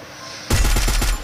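A loud, rapid burst of automatic gunfire from the video game Free Fire breaks in suddenly after a quiet moment. The shots are evenly spaced and sound close.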